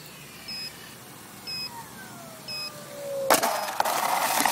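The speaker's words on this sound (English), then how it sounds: "And there's my alarm." Three short, high electronic beeps from an alarm sound at an RC plane flying session with a Skynetic Yak 54 3D, evenly spaced over faint outdoor background, before a loud burst of wind-like noise takes over.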